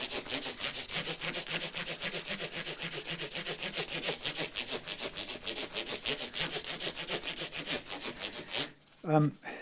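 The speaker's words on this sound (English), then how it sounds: "I'm trying to get all the 600 grit scratches now down to 1000 grit" Steady back-and-forth hand sanding of a guitar part with 1000-grit sandpaper, a dense rhythmic rasping of regular strokes close up for most of the clip, stopping abruptly near the end with a brief thump.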